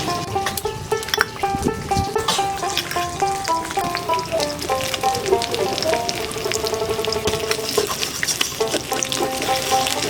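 Fish, a river bhola fish, frying in oil in a pan, giving a steady close sizzle and crackle throughout with busy clatter on top; no talking.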